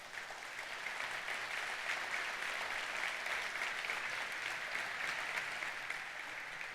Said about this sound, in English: let's give Keith Casey a giant round of applause